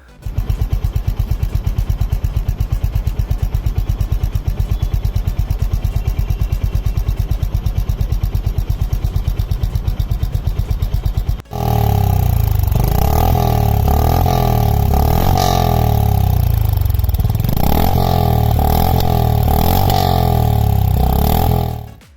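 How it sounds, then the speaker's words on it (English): A Honda CB350RS motorcycle engine idles with a rapid, even exhaust thump, then revs up louder with rising and falling throttle bursts close by. "At each gear and with each twist of the throttle, the engine rose out a rich thump"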